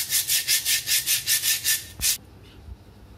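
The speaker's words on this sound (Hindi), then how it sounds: "पहले मैं सैंड पेपर से पुराना वाला पॉट को रगड़ कर साफ करके देख लेती हूँ" Sandpaper scrubbed by hand over an old flower pot before painting, about ten rhythmic, close back-and-forth rasping strokes, then stopping, with a faint knock afterward.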